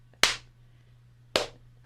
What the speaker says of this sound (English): That's the slow clap.